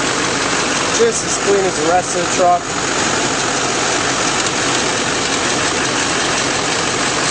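A 2007 GMC Sierra 2500 pickup truck engine idles throughout as a low, continuous rumble, with someone talking briefly over it near the start.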